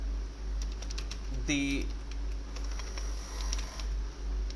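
Keys clatter on a computer keyboard as C code is typed, with a brief quick run of taps in the middle under a steady low hum while someone speaks.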